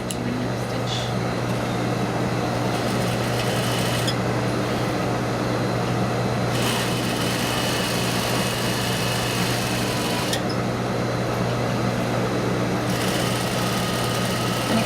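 A sewing machine runs continuously, sewing a half-inch underarm sleeve seam at a 2.5 stitch length, its steady motor hum and needle whir close and even with a few brief pauses in texture.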